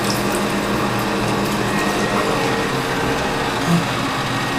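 Water pouring steadily from a tap or sprayer to rinse a cat during a home bath, a continuous close rushing and splashing hiss with no pauses.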